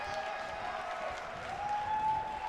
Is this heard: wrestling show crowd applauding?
yes